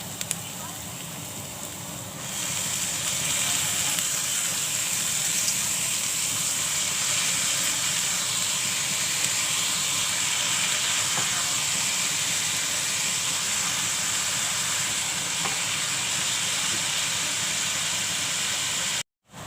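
Vegetables tossed into softened fried onion in a pan set up a loud, steady hissing sizzle that starts abruptly and holds evenly for many seconds, close up, before cutting off suddenly.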